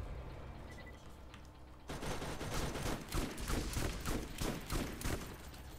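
Dense gunfire in the Borderlands video game breaks out after a quieter stretch, with rapid repeated shots in overlapping bursts at close range.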